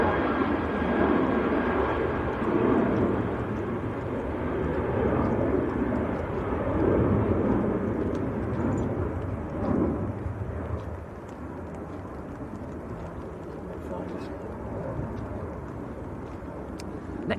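An airliner departs Manchester Airport in crosswinds, outbound to Santander, its rumbling roar pulsing and rising in waves, then easing after about ten seconds into a lower, steadier drone, with no talk.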